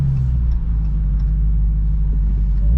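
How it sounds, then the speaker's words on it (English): A 2020 Dodge Charger Daytona Hellcat Widebody in sport mode drifts and spins through a quick right turn, its engine a loud, steady low rumble close up throughout with no talking. "So right there, I got a nice little drift, little spin."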